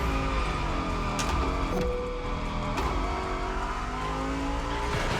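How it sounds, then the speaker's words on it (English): A car drifting in The Crew Motorfest, driven with a direct drive wheel: a loud, close engine drone with shifting revs, tyres squealing through the slide, and brief sharp bumps along the way. "Let's see if I can do a nice little drift here."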